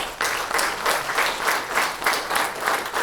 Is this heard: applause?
yes